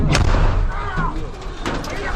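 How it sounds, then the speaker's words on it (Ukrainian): Large-calibre mortar fire during war in Donetsk region: a sharp loud blast opens, followed by a rumbling boom and a second thud, close and forceful with brief echoing decay. "Били з великокаліберного міномета."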